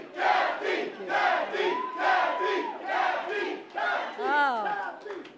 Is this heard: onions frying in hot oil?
no